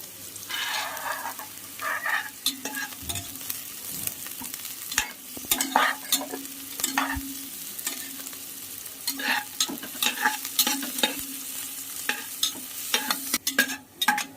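Chopped onion frying in a pan with a pinch of salt, with a continuous sizzle under repeated scraping and clattering strokes of a stirring spoon, some sharp and loud, others soft, spread throughout.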